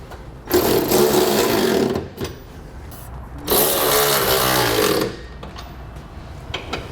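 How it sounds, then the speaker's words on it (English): Power tool driving a 3/4 inch socket to tighten 1/2-inch Nerf bar bolts on a 2016 Ford F-150, two loud buzzing bursts of about one and a half seconds each, separated by a short pause. "we'll use a 3/4 inch socket and tighten down our 1/2-inch bolts that are going into the end"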